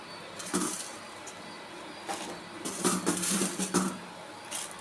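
Coriander seeds tipped into a pan of roasted urad and chana dal, heard as a faint, scattered patter of small hard seeds landing and rattling against the pan, with a few sharper clicks.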